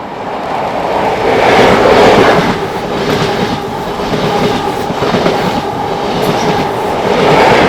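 A northbound train rolls past on Scotland's Highland Main Line, loud and close, with a continuous rumble and rhythmic wheel clatter that swells and eases over several seconds; no one speaks.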